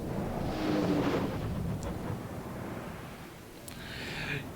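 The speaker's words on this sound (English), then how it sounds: "You can see I'm firing on this Tirpitz" Naval guns booming during a World of Warships battle with a Yamato firing on an enemy Tirpitz: a heavy, rolling low rumble with distant crackling blasts, steady throughout and without speech.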